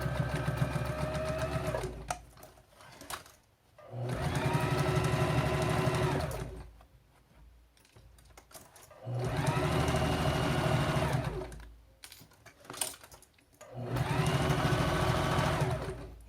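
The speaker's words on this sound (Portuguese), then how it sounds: "Dou um retrocesso aqui" Sewing machine backstitching a small fabric organizer bag, with four bursts of rapid mechanical stitching separated by short quiet pauses, heard close and alone.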